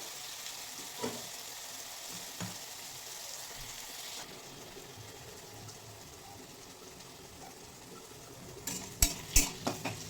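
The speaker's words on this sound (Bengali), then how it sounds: "আলু এবং বেগুন অনেকটা ভাজা হয়ে গেছে এবং নরম হয়ে গেছে" Potatoes and eggplant frying in a pan for a leafy-greens dish give a steady, moderately quiet sizzle, with a few soft utensil taps early on and a cluster of sharper clinks near the end.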